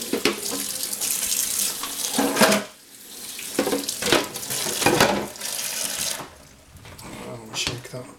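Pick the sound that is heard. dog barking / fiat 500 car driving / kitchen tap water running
kitchen tap water running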